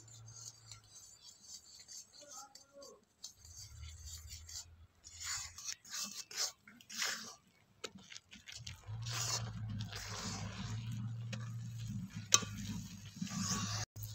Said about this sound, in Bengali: তো এবার আমি এই চালের গুঁড়োগুলো এর মধ্যে দেব আর নাড়তে থাকবো।